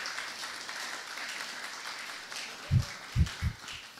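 Seminar audience at a church gathering applauds, a soft, steady spread of many hands clapping at moderate distance, broken near the end by a few heavy low thumps.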